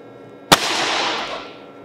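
A Nitro X air rifle fitted with a 75 kg spring kit fires a single sharp shot during chronograph velocity testing, a loud crack followed by a rushing decaying tail lasting about a second.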